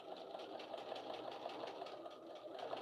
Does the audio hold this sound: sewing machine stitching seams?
yes